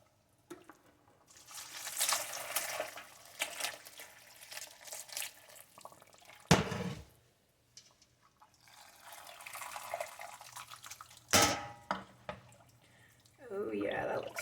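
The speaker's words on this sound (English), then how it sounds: "Now I'm just going to take my broth from over here that we've been cooking down and just add it" Homemade broth is poured into a pot of chicken stew in bursts, with a rushing liquid splash, a couple of sharp clanks from the pot, and a voice speaking close by between pours.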